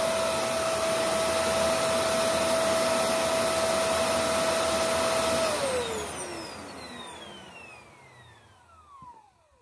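Shark NV750W vacuum cleaner running on a hard floor, a loud steady motor whine with a high tone that then winds down as the machine is switched off, ending in a fading rattle.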